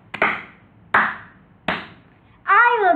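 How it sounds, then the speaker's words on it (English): Three sharp, close hand claps spaced evenly about three-quarters of a second apart, followed right away by a loud shouting voice. "Hands in the air, clap your hands 3 times."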